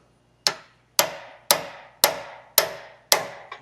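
Six sharp metallic hammer strikes on a steering part of a Jeep Wrangler JK Rubicon at a steady, unhurried pace, each ringing briefly before the next, followed by a lighter seventh tap; close and loud, no talking.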